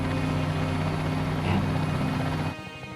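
A helicopter's rotor and engine drone steadily and loudly with a low pulsing thump as it takes off at Chernobyl, then the sound drops off sharply near the end.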